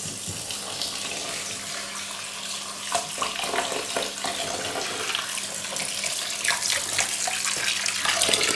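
Steady cold water running from a tap, splashing into a sink, continuous and fairly close, with small shifts in the stream's texture.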